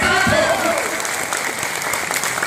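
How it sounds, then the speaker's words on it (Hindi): Loud, dense clapping from a large crowd, steady and sustained throughout, with a few voices mixed in. "जोरदार तालियों से स्वागत है"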